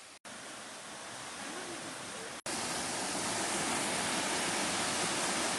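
Loud, steady roar of Ko Luang waterfall in Mae Ping National Park, Lamphun, Thailand, a dense unbroken rush of falling water with two brief dropouts early on.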